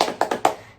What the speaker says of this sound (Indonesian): Mau tepuk semangat? Oke. Dimulai ya. 1, 2, 3. Tepuk semangat.